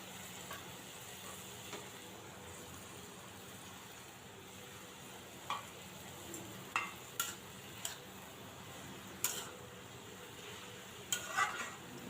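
Fish curry frying in a pan after green chilies go in: a quiet, steady low sizzle with scattered stirring clinks and scrapes, fairly faint, no talking.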